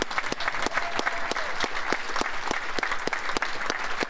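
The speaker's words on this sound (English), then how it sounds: "one more great round of applause for the ECAC Hall of Fame Class of" Audience at the 2016 ECAC Hall of Fame induction gala applauds its honoured class, a dense, steady wash of many hands clapping close and loud throughout, with no voices on top.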